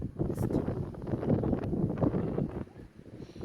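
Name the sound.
wind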